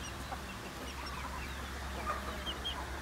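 Chickens cluck softly and continuously in a range while being fed ipil-ipil leaves, with scattered faint calls over a steady low hum.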